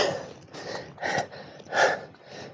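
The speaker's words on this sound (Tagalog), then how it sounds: "Hinihingal na." Heavy panting from a tired hiker climbing uphill in Mariveles, Bataan, with several loud, close breaths swelling and fading in an uneven rhythm, heard alone.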